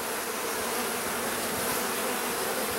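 Honey bees during a hive inspection make a dense, steady buzzing drone, loud and close, with no talk over it.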